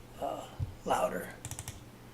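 Light clicks from a computer keyboard being typed on close to a microphone, a few scattered keystrokes mixed with brief talk nearby.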